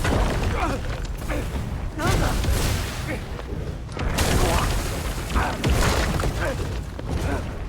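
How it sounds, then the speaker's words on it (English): Dense rumbling blasts and crashing debris roll on continuously, with heavy booms swelling around the middle and end amid constant noisy clatter. "Very convenient that these explosions are going off on us."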